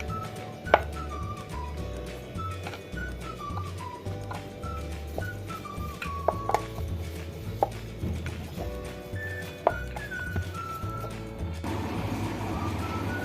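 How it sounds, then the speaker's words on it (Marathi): Puri dough for masala puri is rolled out with a rolling pin, a soft repetitive rumble of rolling under steady background hum, punctuated by a few sharp taps and clicks. "अशाच प्रकारे बाकीच्याही सगळ्या पुऱ्या आपण लाटून घेऊ।"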